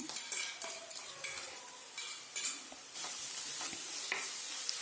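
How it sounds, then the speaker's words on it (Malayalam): Ginger garlic paste and onion sauté in a pan while being stirred, giving a low sizzle broken by repeated spoon scrapes and clatters against the pan, close and moderately quiet. "ഇതൊന്ന് നന്നായി വഴറ്റിയെടുക്കാം."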